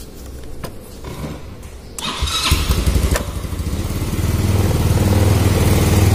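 A 2011 Yamaha Xeon motorcycle with a carburetor fault is started and revved unevenly, its engine surging to high revs and hanging before settling, the close, rough drone growing steadily louder.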